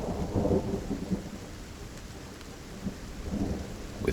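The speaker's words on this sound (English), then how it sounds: "With rolling thunder and cracking of lightning, the clouds gathered together and continue to shed rain down on the plains of Moy Tura." Rolling thunder rumbles low and steady under continuous rain, with swells of deeper rumble at the start and near the end, spread wide like a distant storm.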